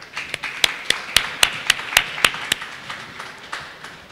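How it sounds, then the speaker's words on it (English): Sparse, loose clapping from a small group, a dozen or so sharp claps that thin out and fade over a few seconds. "I would like everybody to give them a round of applause."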